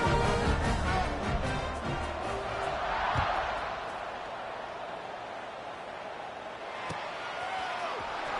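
A football stadium crowd at a UCLA versus Cincinnati game keeps up a broad, steady roar that swells and eases slightly, with a few sharp thumps cutting through it.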